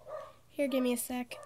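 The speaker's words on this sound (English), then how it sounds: "Sorry for my dogs barking in the background." Dogs bark in short bursts a few times in the background while a person speaks quietly over them.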